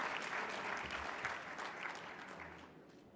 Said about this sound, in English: One more big round of applause for Senator Dianne Feinstein.